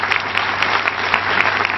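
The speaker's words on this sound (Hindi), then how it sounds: "एक बार जोरदार तालियां हम एमवे के लिए बजा सकते हैं" Loud applause for Amway at a business presentation in Jaipur, India, a dense, steady wash of clapping close by that carries on throughout the short stretch.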